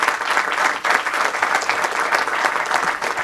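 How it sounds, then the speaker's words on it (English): Audience applause for Nancy Leopold at a council proclamation ceremony, a steady, full round of clapping that carries on without a break from start to finish. "Let's give her one more round of applause."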